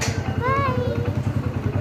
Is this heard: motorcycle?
yes